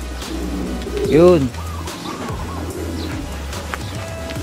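Pigeons coo nearby, a throaty rolling coo clearly standing out among softer calls, with someone speaking over steady low background rumble.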